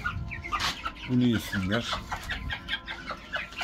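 Young chicks and chickens in a coop cluck and chirp while feed is scattered for them, a burst of close clucking in the middle among softer peeps, with someone speaking briefly.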